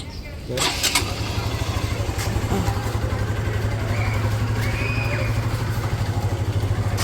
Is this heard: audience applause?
no